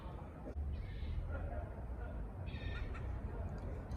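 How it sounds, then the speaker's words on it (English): Several birds call in the background, short hooting and chirping notes scattered over steady outdoor noise and low rumble. "Sorry about all the birds."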